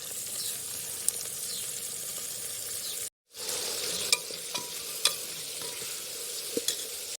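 Tomatoes go into spices frying in a pan, giving a steady sizzle with a brief silent break, followed by a few scraping stirs and clicks against the pan.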